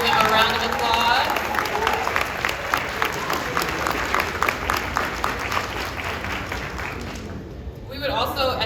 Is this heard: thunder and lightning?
no